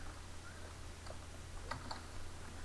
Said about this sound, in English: In the search box, I'm going to type Auto HD for YouTube,